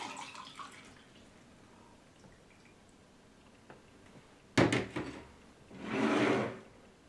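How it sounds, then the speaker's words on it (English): A juice strainer is tapped on a table with a few sharp knocks, then juice is poured into a glass with a short liquid splash, all close by with no talking. "Going to go ahead and tap that on the table, get it all out, and pour that back in the glass."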